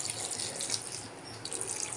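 A kitchen tap runs in a steady, moderately quiet stream for about two seconds while a meal is cooked, with no voices.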